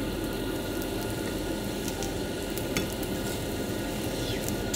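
French toast fries steadily in a pan at lunchtime, a continuous close sizzle with faint crackles running evenly throughout, no talk.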